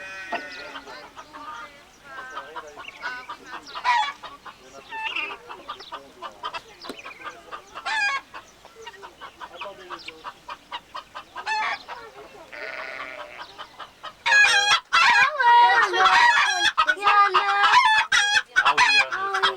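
Hens and roosters at a farm's henhouse, where the birds shelter for the night and lay, fill the air with busy overlapping clucks and cackles, a rooster's crow standing out near the end, close and lively throughout.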